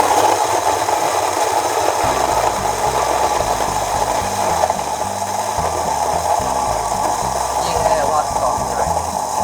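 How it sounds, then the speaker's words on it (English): An electric coffee grinder grinds coffee beans with a loud, continuous rattling whir that runs through the whole stretch, while people talk faintly underneath. "we'll grind this real quick"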